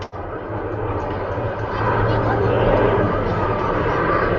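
A steady, broad engine drone from an airplane flying in a played video keeps going throughout and swells slightly partway, with people talking over it.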